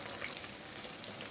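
Raw-potato chops fry in oil over a low flame, giving a continuous, dense, close sizzle that holds steady throughout with no voices.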